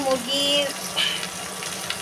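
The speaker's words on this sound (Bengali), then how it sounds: "মুরগিটা তো ভাজা হয়ে গেল" Chicken frying in a pan in a home kitchen, a steady close hiss and sizzle of hot oil running throughout, with a voice talking over it.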